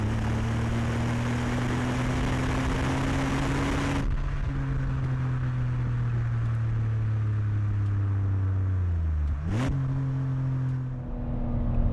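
A BMW E46 330i ZHP engine revs up through its power band, a close, strong, rising note that drops off, then surges again in a sharp blip before settling, with no one speaking.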